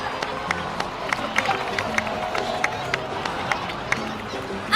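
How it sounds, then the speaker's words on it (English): A crowd in the video game Genshin Impact claps and cheers in a dense, steady patter, with sharp individual claps standing out; the applause is moderately loud and continues throughout. "please give another round of applause for them"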